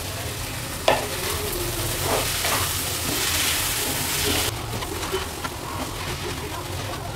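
Taro stolons added to a pan of frying onion with ginger-garlic paste for a Bengali prawn dish, sizzling steadily with stirring and a brief clatter near the start.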